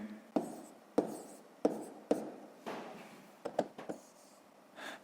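Pen or pencil writing the number 264 on paper during a sixth-grade maths exercise, heard as several sharp taps of the tip landing on the page followed by short scratchy strokes, close and fairly quiet with no talking.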